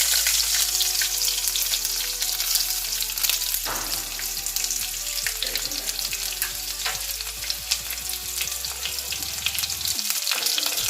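Mustard seeds and onions fry in hot oil in a clay pot, giving a loud, dense crackling sizzle with a burst of popping partway through and steady hissing after, with no talk.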